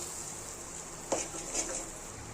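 A spoon stirs an egg and tomato mixture for kothu idiyappam in a hot pan, giving two quick scrapes over a constant soft sizzling hiss.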